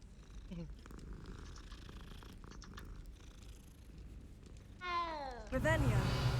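A cat in Hogwarts Legacy purring softly under a person talking, followed by a couple of rising meows near the end.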